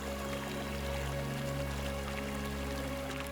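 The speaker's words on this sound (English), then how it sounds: "Listen to the water. Watch the water go over the rocks." Water of a stream flowing over rocks in a valley, a steady, continuous wash of moderate loudness that stays even throughout, with no voices.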